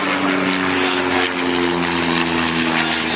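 A propeller-driven airplane engine drones loudly overhead at an outdoor aquarium porpoise show, a steady, continuous hum with no talk over it.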